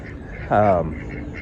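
A single nasal quack from a male duck on a farm, short and close, standing out against a quiet background.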